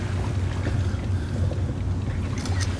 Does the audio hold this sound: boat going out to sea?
yes